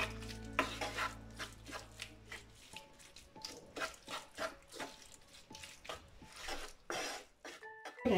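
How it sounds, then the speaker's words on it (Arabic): Cream being stirred by hand into a soft dough mixture, producing soft, repeated scraping and squelching strokes in an uneven rhythm, close and fairly quiet, with a low hum dropping away early and no talking. "صافي وغادي نحركو"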